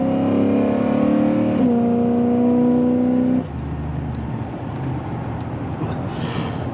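A stock pickup truck with a 5.9 engine pulls off the highway, its engine note climbing loudly and steadily before easing off into quieter road and wind noise.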